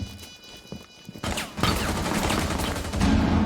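Rapid gunfire from an esports first-person shooter match, a dense burst of shots that builds after a quieter opening and stays loud to the end, with no talk over it.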